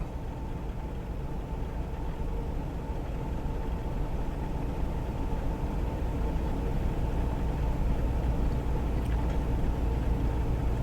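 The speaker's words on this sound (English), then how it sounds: "Got a rough idle. It seems to be getting a little bit rougher." A 2004 Chevy Suburban engine runs at a rough idle, giving a loud, steady low rumble close to the listener with a faint uneven pulse and no voices over it.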